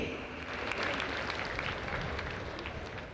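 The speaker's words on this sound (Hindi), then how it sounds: "आइए तालियों के साथ आभार व्यक्त करें माननीय प्रधानमंत्री जी का इस विशेष भेंट के लिए" Audience applause at the Janjatiya Gaurav Diwas government programme in Dediapada, Gujarat, attended by the Prime Minister: a steady wash of clapping from a large crowd, sustained evenly for several seconds with no speech over it.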